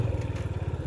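A heavy motorcycle engine thumps along close by on a rough mountain road, its low exhaust pulsing in quick, even beats.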